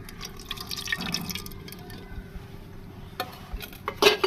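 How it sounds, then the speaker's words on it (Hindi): Ghee poured into a cooking pot at the start of achari gosht, a soft liquid trickle and drip with faint metallic pot contact, close and alone. "अचार गोश्त के लिए सबसे पहले हमने घी डाल लेना है"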